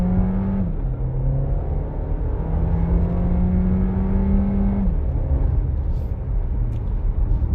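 A 2023 VW Tiguan R-Line with a 2-liter DSG engine accelerates at full throttle, its loud engine note climbing steadily through a gear change before rising again, heard from inside the cabin.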